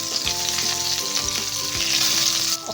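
Spices with white sesame seeds sizzle loudly in a hot pan while being stirred, a constant bright crackle with scraping strokes of the spoon breaking through now and then.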